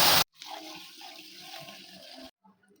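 About 500 ml of milk pours in a steady liquid stream into a pan for a sweet vermicelli dish, starting after a sharp burst and stopping abruptly, followed by a few small trailing splashes.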